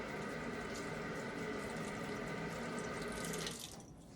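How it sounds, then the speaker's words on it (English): A kitchen faucet runs in a clear, slightly warm stream over a washcloth, a steady close splashing rush that cuts off near the end. "Get your washcloth wet by running the washcloth under the water"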